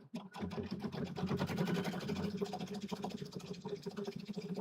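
A sewing machine stitches a zipper in a steady, moderately quiet stream of fast rhythmic clatter that runs for several seconds.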